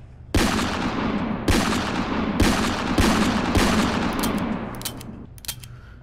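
Gunfire aimed at a rhino in the VR shooting game Gun Club VR: four loud, sharp bursts of shots spaced about a second apart, each trailing into dense rattling fire, then a few faint clicks near the end.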